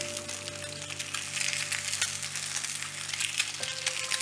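Eggs frying in a pan for a weekend American-style breakfast, a steady bright sizzle and crackle holding close and even throughout, with no talking.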